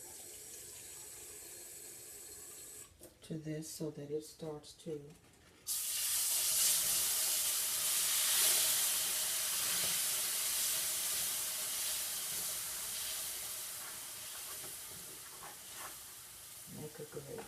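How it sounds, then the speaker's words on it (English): Water poured into a hot pan holding a browned pork roast bursts into loud, steady sizzling and hissing steam after a brief exchange of talk, continuing for several seconds. "we're going to add enough water"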